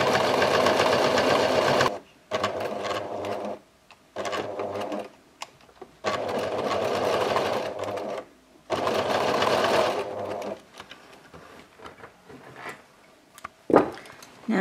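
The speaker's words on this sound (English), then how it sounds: "Going to sew the other end." A sewing machine stitches a half-inch seam on a tote bag made from tea towels, running in several steady bursts of a few seconds each with short pauses between, then light handling clatter.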